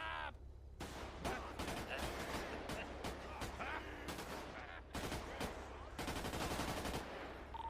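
Rapid bursts of automatic gunfire in the video game GTA, repeated volleys with short gaps and dense crackling shots, steady and fairly loud against a background of game music.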